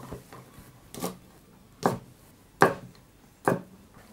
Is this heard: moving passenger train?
no